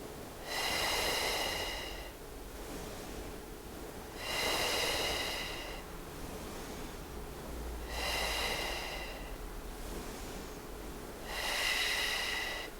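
Slow qi gong breathing, with four long, even breaths spaced about every three to four seconds, each a soft airy rush close to the microphone, heard alone without talk.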